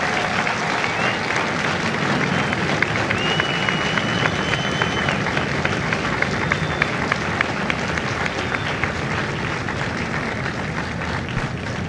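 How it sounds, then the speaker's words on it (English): Sustained audience applause fills a large crowd at a Marine Corps recruit graduation ceremony at MCRD San Diego, steady dense clapping for the full length with a few faint cheers rising above it. "Ladies and gentlemen, a round of applause for their dedicated service to Corps and country."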